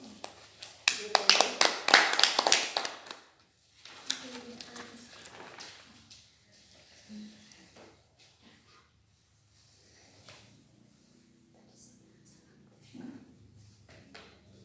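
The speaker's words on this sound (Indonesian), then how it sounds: "Mari tepuk tangan untuk adik." A university micro-teaching class applauds a student after a presentation. A loud burst of clapping lasts about three seconds, then thins into scattered claps and quiet talk.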